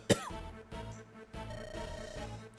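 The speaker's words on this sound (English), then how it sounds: "Sorry about the cough there." A single sharp cough near the start, followed by quiet low background music.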